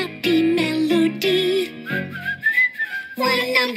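A whistled happy melody carries through a cartoon children's counting song, a bright wavering tone sounding alongside sung music and instruments.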